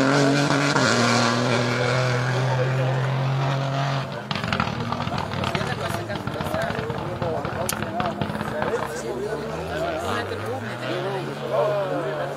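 A rally car on a special stage of Rally Wervik roars loudly past with a falling engine note. Engine noise and a crowd-like clatter continue as the car moves away, and people talk throughout.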